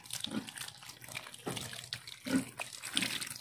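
Water runs steadily from a faucet while dogs are being bathed, a faint, continuous splashing hiss with small uneven surges.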